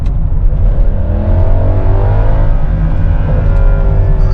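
A Mercedes-AMG C63 engine revs loudly and continuously, a deep throbbing roar rising and settling, close by with no talking.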